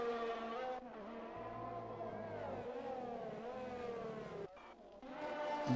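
F1 cars in a racing game scream along at high revs, their whining engines shifting pitch through gear changes with a brief dip before the engine note climbs again, loud and close.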